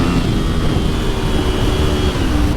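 A Honda VFR750F or Triumph Sprint 955i motorcycle, a bike roughly 25 years old, drones loudly and steadily under acceleration, with a strong low engine roar and wind rush on the road.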